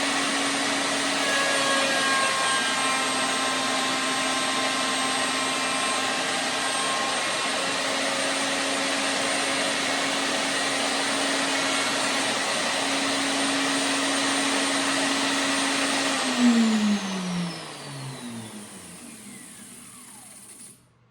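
A router mounted in a router table cuts a truss rod channel in a guitar neck, giving a steady loud high-pitched whine that holds for about sixteen seconds, then spins down and fades at the end.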